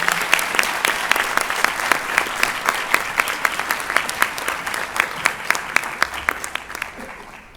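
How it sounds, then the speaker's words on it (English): Graduates at a law faculty summer graduation ceremony receive sustained applause from a large crowd, with individual sharp claps repeating prominently in a steady rhythm above the general clapping before it tapers off. "Let us now give all of these graduates a big hand of applause"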